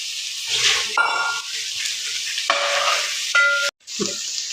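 Boiled prawns with fried onion are stirred in a pan, a close sizzle broken by several scraping strokes of a spoon against the metal, with a brief pause near the end.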